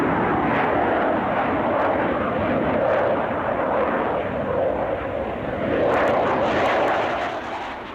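Panavia Tornado jet aircraft flying, a steady loud roar of jet engine noise that swells and fades slightly over several seconds, with no voices.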